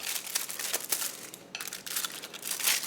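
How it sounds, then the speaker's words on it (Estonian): Chocolate candy is unwrapped from its paper wrapper, giving close, continuous crinkling and rustling bursts over about three seconds, with no talking. "Järgmine oluline asi on ka šokolaad saada paberist kätte"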